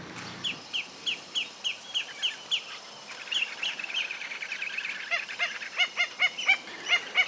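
Water birds, including grebes, herons, coots and ducks, call at a creek in Santa Fe, Argentina, in a long series of loud, regular honks, then a busier stretch of overlapping squawks and calls from a flock nearby.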